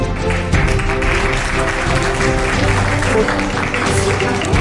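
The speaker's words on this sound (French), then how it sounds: "On va applaudir chers parents" Audience at a French-language national spelling bee championship applauds finalists, steady dense clapping throughout with voices and crowd murmur mixed in underneath.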